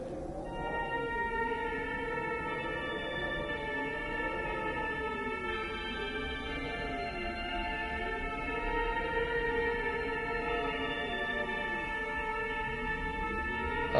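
A moon song melody plays in the video game Project Zero: Mask of the Lunar Eclipse, a steady, eerie sustained tone with slowly wavering pitch under a dense, droning backdrop, continuous for the whole stretch with no talking.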